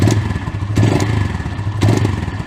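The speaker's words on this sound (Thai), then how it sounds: "ฟังเสียงรอบเครื่องดูนะครับ" A Honda Phantom 200 motorcycle engine revs up in repeated bursts, rising and falling roughly every second over a rumbling idle, loud and close.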